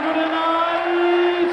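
Darts crowd at the 2004 World Championship quarter final roaring and chanting after a maximum 180, a sustained loud chorus of voices holding one steady pitched tone.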